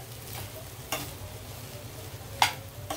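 Chili powder being mixed into long beans and potato frying in a little oil: a few sharp spatula knocks against the pan over a low, steady frying hum, close by and with no voices.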